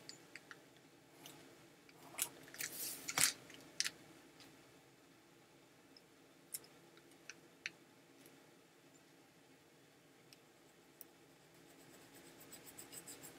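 Colored pencil drawing a diamond in two-point perspective on paper: faint, steady scratching strokes with scattered sharper ticks and taps, close and quiet, no talking.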